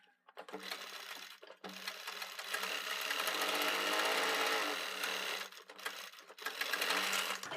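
Sewing machine stitching a kurti collar runs in three bursts of fast, steady whirring, with short pauses between, close and fairly loud with no talking.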